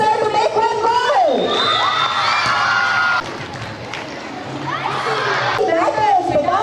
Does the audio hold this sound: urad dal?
no